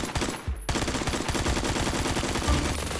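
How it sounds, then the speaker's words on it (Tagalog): Rapid automatic gunfire in the video game Phantom Forces rattles continuously after a brief pause, dense and loud like a firefight. "Parang utot yung tunog nung baril niya dun."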